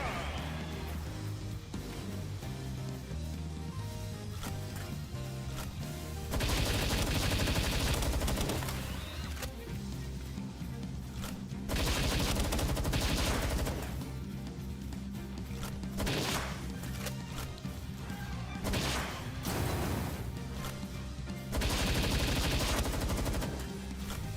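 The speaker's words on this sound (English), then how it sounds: "I love just shooting the wall." Video game gunfire in Palworld as a gun shoots at a wall, bursts of rapid shots in several loud clusters over a steady background of game sound and music.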